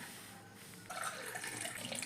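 Water running steadily from a tap, quiet at first and then splashing more strongly into a sink for the rest of the clip.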